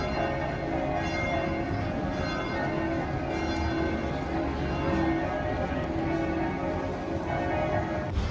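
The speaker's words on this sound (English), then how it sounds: "The bells kept ringing." Church bells ring continuously in Venice after dark, a dense, loud wash of overlapping tolls with rich ringing overtones filling the whole stretch.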